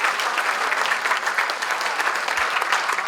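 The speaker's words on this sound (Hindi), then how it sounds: "एक बार जरा जोरदार तालियां बजाइए आप" Vigorous audience applause at a poetry gathering, a national poets' meet, with dense, even clapping that holds steady and loud throughout the brief stretch, with no talk over it.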